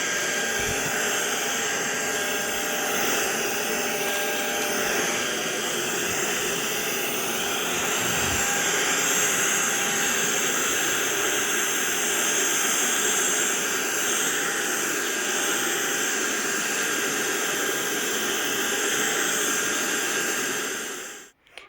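Ultenic U11 stick vacuum cleaner running steadily on a tiled floor, a loud continuous motor whine and airflow hiss lasting about twenty seconds before cutting off abruptly.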